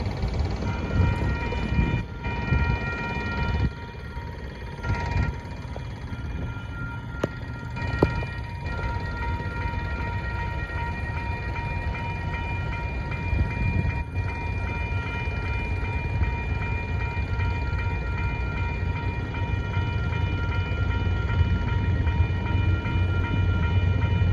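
A northbound Union Pacific mixed freight train passes a crossing at Center Street in Kyle, Texas, with a steady, loud roar of rolling cars, rumbling wheels and tonal horn-like hums that continue throughout.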